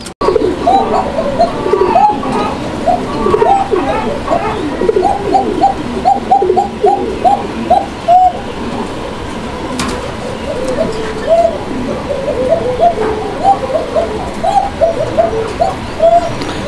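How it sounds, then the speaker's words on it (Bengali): A pair of Koka pigeons cooing close by, repeated rhythmic coos in bursts over a steady background hum. "অনেক চমৎকার এক জোড়া কোকা কবুতর"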